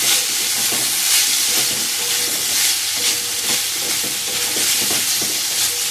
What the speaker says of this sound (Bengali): কড়াই এইভাবে ফ্রাই করে দিচ্ছি তেলেতে